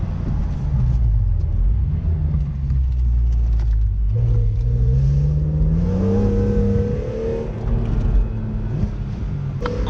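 A BMW M3 E46 convertible with a manual gearbox revs its engine, a loud, close, continuous rumble that climbs in pitch as the revs rise and then settles, with no talking.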